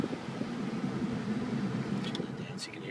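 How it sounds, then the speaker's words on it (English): Cabin blower of a 2006 Ford F250 diesel 4x4 running the air conditioning, a steady, even rush of air with a low rumble beneath and a few faint clicks near the end. "Alrighty then, air conditioning."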